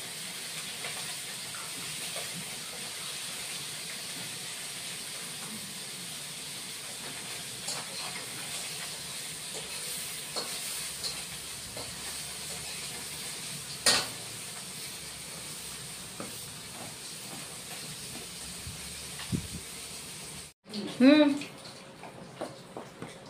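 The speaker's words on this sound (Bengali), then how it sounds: "দুবারে ভাজতে হবে, একবারে হলে ভেঙে যাবে মাছ" Pieces of bata fish fry in hot oil in a pan at home with a steady, low sizzling hiss and occasional pops, ending with a brief sharper clatter.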